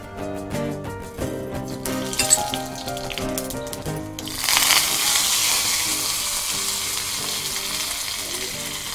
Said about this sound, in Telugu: ఇందులో కొంచెం ఆవాలు కరివేపాకు వేసి పోపు చేసుకుందాము